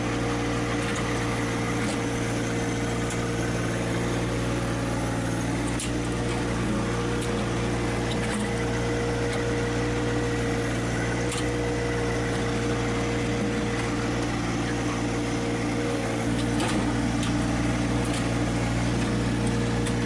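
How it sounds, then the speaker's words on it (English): A John Deere 1025 category 1 compact tractor drags a Frontier box blade along a driveway, its engine droning at a steady hum throughout with faint scraping and clunks over the continuous motor noise. "I think for a tractor this size, this category 1, the 1025 really does a nice job."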